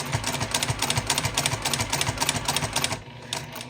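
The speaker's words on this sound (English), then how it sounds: "So I'll just start stitching" A sewing machine stitches fabric for a cord organizer in a fast, even clatter of needle strokes, close and alone, stopping abruptly near the end.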